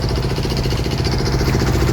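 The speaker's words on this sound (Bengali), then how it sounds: "আর এই যে এখানের একটা ট্রলার, তো উনি যাত্রীদেরকে নিয়ে এভাবে ঘুরে বেড়াচ্ছে" A trawler boat engine carrying passengers off a sea beach chugs with a steady, loud, rhythmic mechanical rumble throughout, with no talk over it.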